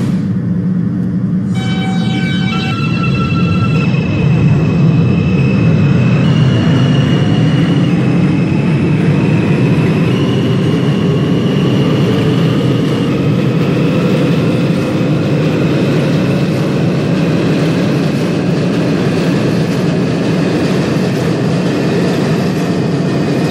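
An R160A E subway train in the Openbve simulator running on the Queens Boulevard express line: a loud, steady rumble of motors and wheels on rails, with rising whining tones as the train accelerates. No voices are heard.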